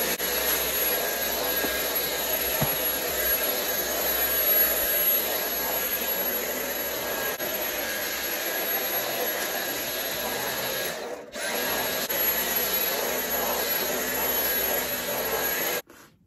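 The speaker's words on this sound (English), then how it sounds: "when I go around with the vacuum down this end, which is down by the TV" A household vacuum cleaner runs steadily and close by in a cottage living area near the TV, a loud continuous broadband whine that briefly dips once and cuts off at the end.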